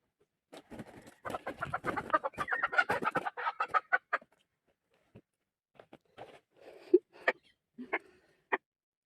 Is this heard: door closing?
no